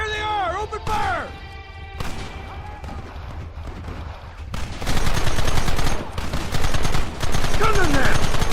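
Gunfire erupts in the Red Dead Redemption video game, a loud shootout of rapid overlapping shots and blasts that intensifies midway, with shouting voices heard alongside the battle.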